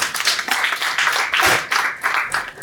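Audience clapping for a panel member at a young CEOs' business forum, a moderate burst of applause with uneven swells and dips across the short stretch.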